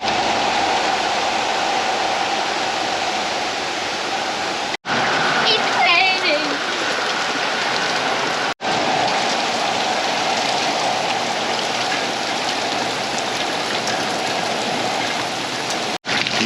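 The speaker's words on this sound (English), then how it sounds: "we are starting to get some rain" Steady rain falls through a June thunderstorm in Texas, a dense continuous hiss of drops across the whole stretch with brief dropouts and a spattering burst near the start; no talking is heard.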